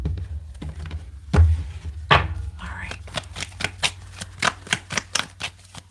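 A tarot deck is shuffled by hand, giving quick soft riffling taps and card slaps that speed into a rapid run of clicks near the end, heard close under a faint voice.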